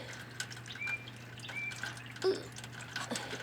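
Water dripping from a house gutter outdoors, scattered irregular drips and small splashes at close range, faint against a steady low hum and soft background noise.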